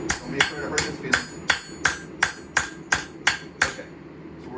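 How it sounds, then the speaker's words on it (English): A hammer strikes a hot knife blade on the anvil about ten times in an even, steady rhythm, each blow a loud, sharp, ringing clang close up. "Have that hammer back out flat. Flatten it out."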